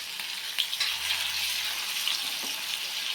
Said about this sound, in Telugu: ముక్కలు వేసుకుందాం. నూనె వేడైంది, ఆయిల్ వేడైందండి.